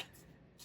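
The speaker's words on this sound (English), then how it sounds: "We're going to slice this." A knife cuts through the end of a pineapple on a board in a catering-style fruit platter prep, one short crisp chop near the close after quiet handling noise.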